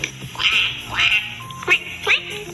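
A child imitates a duck with a series of short, nasal quacks, about four or five, close and fairly loud.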